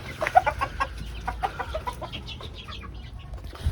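A hen clucks in short, uneven bursts, close by at moderate volume, with soft rustling and low background noise; a stray hen left behind indoors while the rest of the flock has gone outside.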